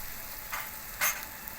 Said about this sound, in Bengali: রসুনটা বেশ ভালো ভাজা ভাজা হয়ে গেছে।